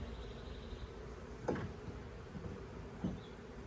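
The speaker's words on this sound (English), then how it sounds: "I think there's still quite a few bees in there" Bees hum faintly at an opened beehive during a summer hive inspection, a low steady drone broken by two brief handling knocks.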